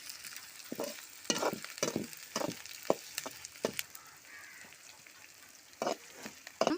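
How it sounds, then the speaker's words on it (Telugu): Onions fry in a pan toward golden brown with a soft, continuous sizzle, punctuated by a series of sharp scraping spatula strokes as they are stirred. "ఆనియన్స్ని దోరగా వేయించుకోవాలి బాగా ఇట్లా వేయించుకోవాలి గోధుమ రంగులోకి వచ్చేంత వరకు వేయించుకోవాలి"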